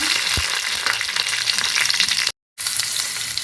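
Green chillies frying in hot coconut oil for a chilli curry, a dense, loud, steady sizzle close up with a brief stir sound and a short dropout near the end, no talk.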